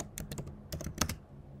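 Quick bursts of computer keyboard typing while writing Python code, close and crisp clusters of keystrokes followed by a brief pause at the end.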